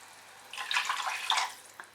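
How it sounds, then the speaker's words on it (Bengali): Water pours into a cooking pot for vegetable soup, a soft, splashy stream starting about halfway through and running close and steady for roughly a second before tapering off. "এবারে আমি এর মধ্যে জল অ্যাড করছি"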